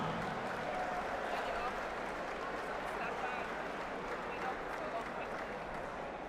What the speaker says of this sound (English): round of applause for both fighters this evening